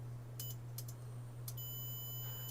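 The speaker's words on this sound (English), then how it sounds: "Disregard the beep" A multimeter in diode mode on a Nintendo Switch board gives several short, faint beeps followed by a longer continuous tone, over a steady low electrical hum.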